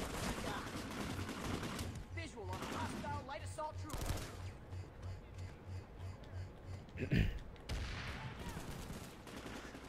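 TAC-5 burst-fire gun in Planetside 2, with rapid repeated shots in short bursts among other gunfire and battle noise, fairly quiet and with a voice talking at times.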